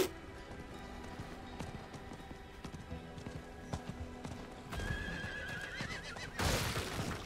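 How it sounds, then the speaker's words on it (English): In the Diablo IV video game a horse whinnies loudly while its hooves clip-clop in a steady rhythm, closing with a brighter burst of sound near the end. "I am so excited we got ourselves a horse"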